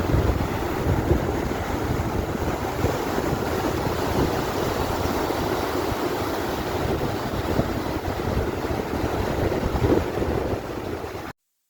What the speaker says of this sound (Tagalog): para maipakita ko sa inyo yung mga magagandang alon